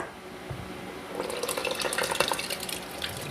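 A rice flour and coconut milk batter is poured quickly from a container, sloshing and splashing steadily for a few seconds, close and moderately loud with no talking.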